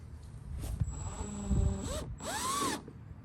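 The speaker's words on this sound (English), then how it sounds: "when you're drilling into this, or really anything with a hole saw, I always like to set a torque setting on the drill" A drill fitted with a hole saw cuts into a metal bar, giving a rising whine and grinding bursts with rattly catches, close and fairly loud.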